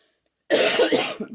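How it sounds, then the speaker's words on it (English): A single loud, close cough burst after half a second of silence, harsh and rough with a couple of quick follow-up hacks. "I hate having a bad cough in front of people."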